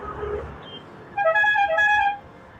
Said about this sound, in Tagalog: mga traditional na busina ng jeep